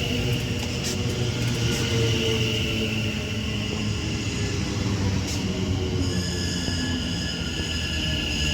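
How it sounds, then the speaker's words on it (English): A train pulling into Lichfield Trent Valley station, a continuous rumble with steady tonal hums and whines that rise and shift in the later part, heard without any talk. "Now arriving in is going to be the delayed 1549 London Euston Railway service to London Euston."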